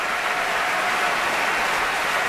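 Riotous concert-hall applause at a Proms performance follows Hvorostovsky's Toreador song from Bizet's Carmen, with the BBC Symphony Orchestra and Chorus under Mark Elder, a loud, dense, unbroken roar of clapping.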